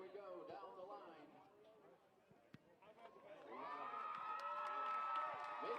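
Crowd at a BGSU men's soccer match against Missouri State cheering for a costume contest contestant: distant chatter and shouts that swell into sustained cheering and whistles in the second half.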